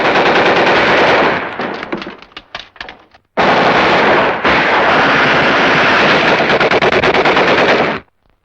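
Machine gun fire roars in long, loud, continuous bursts during a 1952 World War II film, briefly breaking into scattered single shots before resuming at full intensity and then stopping abruptly.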